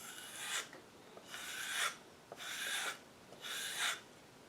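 A knife is sharpened on a Lansky deluxe sharpening system, giving four even rasping strokes close by and fairly quiet, with short pauses between them.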